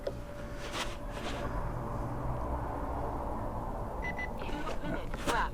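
A shot timer sounds a short electronic beep to start a stage at an NRL22 rimfire rifle match. The tone comes late in the clip, faint against steady outdoor background noise.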